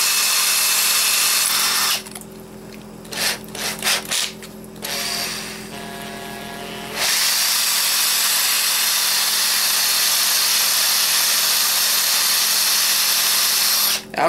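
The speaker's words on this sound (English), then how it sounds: "I'm basically just spinning the drill and running the steel wool on it" A power drill spins a brass piece while steel wool is run against it, a steady high whirring grind that pauses briefly with softer clatter before resuming loudly and continuously.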